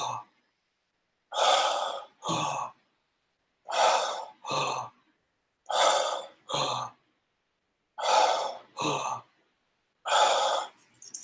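Deep breathing exercise at a guided seminar: five slow cycles, each a long breathy inhale followed by a shorter exhale, with clear pauses between them, close and steady, no talking.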